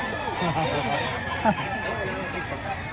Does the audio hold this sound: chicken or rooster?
yes